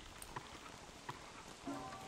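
Rain falling in the survival game Don't Starve Together, a steady soft patter with a few sharper drop ticks and a faint tonal sound near the end, no voices.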